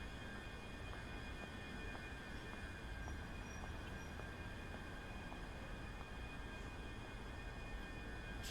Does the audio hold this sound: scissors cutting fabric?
no